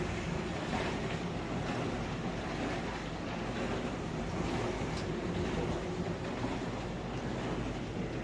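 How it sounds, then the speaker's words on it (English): A dishwasher running in an apartment makes a steady, broadband rushing hum that runs continuously with no breaks, churning water in the background. "Not sure if you can hear it, but that's the dishwasher."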